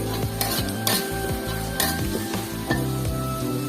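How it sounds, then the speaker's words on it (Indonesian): Spice paste for smoked shredded tuna is stir-fried in a pan, a steady sizzle broken by repeated scrapes and clanks of a spatula against the metal. "Selanjutnya kita tumis bumbunya. Kita tumis sampai matang ya Bunda."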